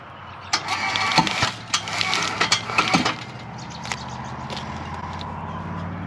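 A machine pulls the hide off a coyote carcass during skinning, giving a series of sharp tearing and cracking pops over a steady engine hum, nearby and loud.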